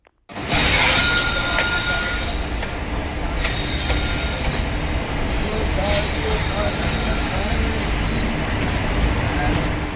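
A moving passenger train, just leaving Panvel station, rumbles loudly and steadily from inside, with wheels squealing and a constant heavy roar.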